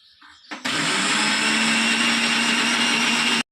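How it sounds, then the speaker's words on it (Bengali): A kitchen mixer grinder spins up abruptly and runs at a steady, loud, high whine while grinding fried kalai lentils into paste, stopping sharply after about three seconds. "এখন মিক্সি চালিয়ে দিয়েছে, মিক্সিতে কলাই পেস্ট করা হচ্ছে"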